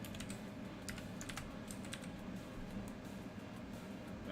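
Fingers typing on a computer keyboard beside a 3D printer setup, quick bursts of soft clicks in the first half, then sparse taps over a faint fan hum.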